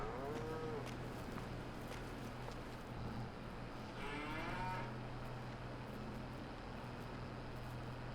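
Cows lowing in the Farming Simulator 22 game, a few drawn-out moos over a steady background drone of farm machinery and ambience, moderately distant.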